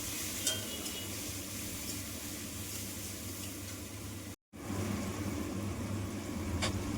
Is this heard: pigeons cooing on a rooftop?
no